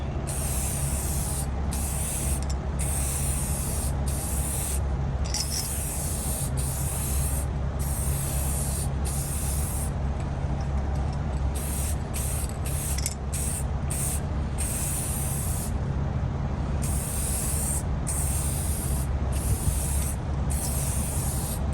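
Chrome spray paint hisses steadily from an aerosol can over a gloss black base coat while building a workshop jukebox, a close, loud, continuous spray broken by brief gaps between passes.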